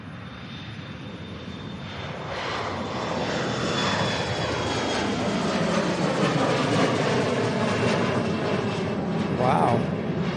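A UPS cargo jet takes off from runway 17 left at Louisville's SDF airport, its engine roar building to a loud, steady rumble up close as it climbs away, with no talk over it.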